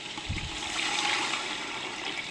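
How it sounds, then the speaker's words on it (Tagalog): Water pours steadily into a pot holding softened, translucent onion, a continuous rushing splash with no speech, heard while cooking beef with string beans in tomato sauce. "Tapos, ilalagyan na natin siya ng tubig."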